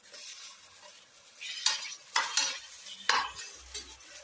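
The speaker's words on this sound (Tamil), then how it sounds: "இது நல்லா வதக்கிக்கலாம்" Coconut, fennel and turmeric are stirred and sautéed in a pan, with several sharp scraping stirs of a spoon against the pan over a faint sizzle, close and moderately quiet.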